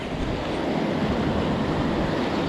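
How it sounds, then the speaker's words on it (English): A flooded creek rushing fast after an overnight downpour, running like a river: a continuous, loud roar of churning water close by, steady with no pauses and no voices. "But with that downpour last night, this creek's like flowing like crazy."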